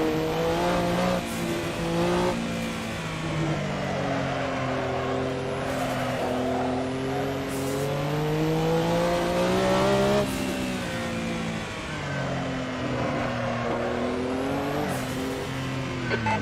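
Porsche 962 C Short Tail race car in the Assetto Corsa sim at Barcelona GP, engine loud and close throughout, revving up and down through gear changes with rising and falling pitch.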